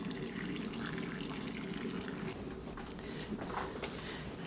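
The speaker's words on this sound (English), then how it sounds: "to poach fish, we're just going to cover it with some boiling water." Boiling water pours from a kettle over fish to poach it, a steady splashing, filling stream running close and continuous throughout, with a voice speaking over it.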